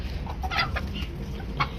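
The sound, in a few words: chicken clucking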